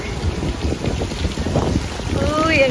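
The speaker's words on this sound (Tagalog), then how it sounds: "Grabe guys, ang hangin ngayon." Strong wind gusts across a Sheraton hotel pool area, a steady loud roar and rumble buffeting the microphone throughout, with no clear talk.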